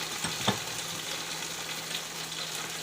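Continuous crackling sizzle of eggs frying in a pan, steady and close, with a brief clink of a utensil near the start.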